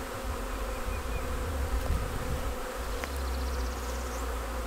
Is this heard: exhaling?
no